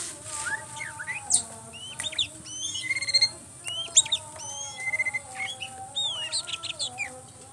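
Oriental magpie-robins chirp among other tame birds, with bright whistled phrases, quick trills and sharp tweets overlapping closely over a faint low background murmur, without any talk.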